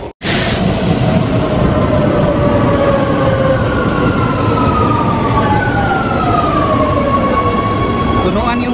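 A train rumbles loudly into a station near the Vatican in Italy, a steady roar of wheels on rails carrying slowly falling metallic whines and squeals as it brakes, continuous for several seconds.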